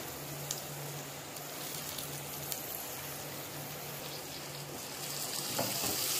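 Boiled cluster beans frying in a pan with oil, a steady, fairly soft sizzle that holds evenly throughout and swells a little louder near the end, with no voices.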